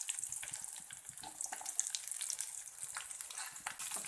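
Onion sizzling in a pan of hot oil with mustard seeds and garlic, a fine continuous crackle and hiss with scattered sharper pops, quiet and close, with no voices.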